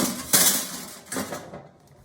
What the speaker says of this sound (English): we put it on some tin foil, and we're going to put it into the toaster oven